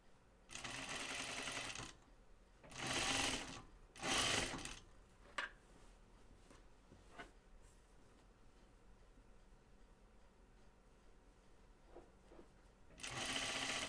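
A sewing machine stitches a hem on a button-up shirt in several separate runs, each a close, rapid mechanical whirr that starts and stops, with quieter handling sounds between them.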